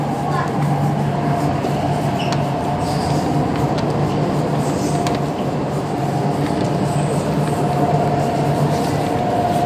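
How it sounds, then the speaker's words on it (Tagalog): A metro train pulls away from a station platform in Hong Kong, a steady loud rumble and hum with a sustained tonal whine, continuous throughout with no break. "And kakaalis lang ng isang train."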